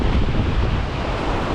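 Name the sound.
east wind at the shore while casting a popper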